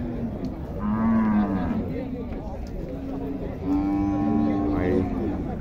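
Cattle moo at a livestock fair in Tabira, Pernambuco, with two or three long, loud, close lows over a background of crowd chatter and talking.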